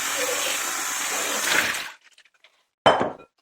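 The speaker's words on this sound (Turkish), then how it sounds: "Öncelikle meyvelerimizi güzelce bir yıkayalım." Tap water runs steadily and loudly over tangerines being washed for homemade vinegar for about two seconds, then stops, followed by faint wet handling sounds and a short splash.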